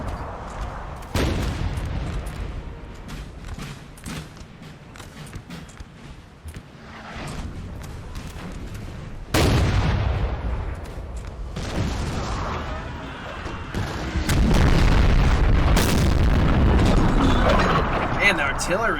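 Artillery fire thunders across a Napoleonic battlefield in Napoleon Total War, with deep booms and rumbling volleys that come in bursts and build to a louder, sustained barrage toward the end, while someone talks over parts of it.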